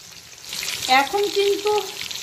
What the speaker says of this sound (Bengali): আর আঁচটা অবশ্যই ফুল ফ্লেমে করে দেবো, যাতে একই রকমভাবে মাছটা ভাজা হয়।